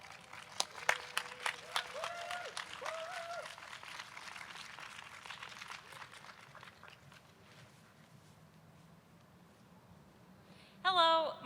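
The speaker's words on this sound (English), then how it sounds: "Please give him a round of applause." Audience applause rises and then fades, a steady wash of many hands clapping in a hall, with a brief louder noise at the very end.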